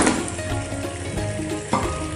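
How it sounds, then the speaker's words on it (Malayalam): Fried chicken sizzles and crackles steadily in a hot pan of honey chicken sauce, with a brief clatter near the end. "ഇനി നമുക്ക് വറുത്ത് വെച്ച് ചിക്കൻ ഇട്ട് കൊടുക്കാം"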